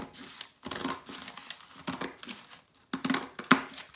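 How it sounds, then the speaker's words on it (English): Scissors cutting through a folded paper accordion book, a series of close, crisp crinkling and snipping bursts with short pauses between strokes, quiet and without talk. "So now that I have cut my accordion book in half"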